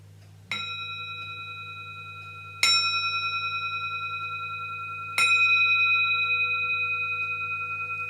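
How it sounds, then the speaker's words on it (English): A meditation bell is struck three times at even intervals, each clear ringing tone sustaining and slowly decaying into the next, with no voices over a quiet low hum. "I'm going to sound a bell, and when I sound a bell that will signal the end of the practice"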